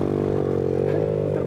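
A motorcycle engine drones steadily close by, its tone shifting slightly as it rides past amid street commotion in an Indonesian drama scene.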